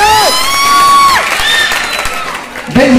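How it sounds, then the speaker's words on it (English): A lively audience at a college speech event bursts into loud cheering, whoops and shouts with some clapping mixed in, close and energetic for a few seconds. "Give a big round of applause for yourself."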